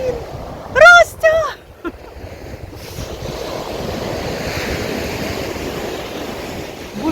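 Stormy sea surf breaking on the shore at Langeron beach in Odesa, a continuous rushing wash of waves with steady wind noise. A voice is briefly heard near the start before the surf dominates.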